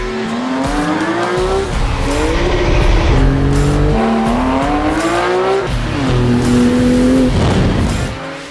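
A Porsche 911 GT2 RS accelerates hard and loud, its engine note rising through repeated gear pulls, with a brief drop between shifts and the roar staying close and continuous.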